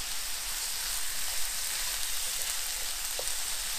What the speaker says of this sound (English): just while the rice is frying.